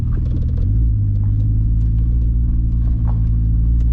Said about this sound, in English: You can already hear the turbo spooling.